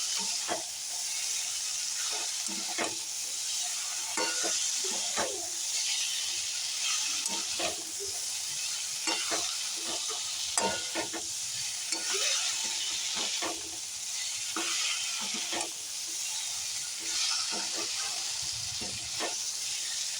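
Okra cooking with yogurt in a pan for the Bengali dish doi dherosh, giving a steady, close sizzling hiss throughout, broken by repeated short scraping knocks of stirring.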